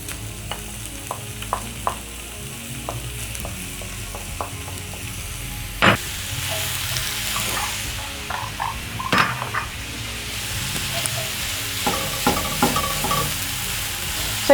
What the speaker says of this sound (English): So I'll add my minced meat at this point.